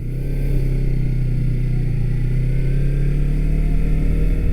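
A 2019 Yamaha R3 ABS motorcycle pulls away, its engine droning steadily and loud close by, the pitch holding fairly even with a slight rise as it gets underway.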